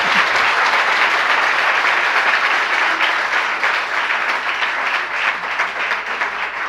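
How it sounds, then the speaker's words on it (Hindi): Audience at a spiritual discourse by a Jain monk applauding steadily, a dense, sustained wash of many hands clapping at close range, slightly uneven in intensity throughout. "कम से कम ताली में तो अच्छी मेहनत कर लिया करो।"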